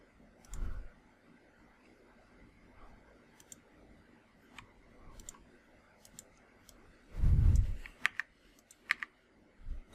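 Close, fairly quiet keystrokes on a computer keyboard while typing into a command prompt, scattered clicks with a couple of heavier thumps, likely the space or enter key.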